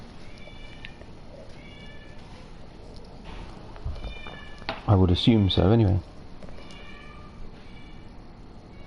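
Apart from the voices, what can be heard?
noisy pet cat meowing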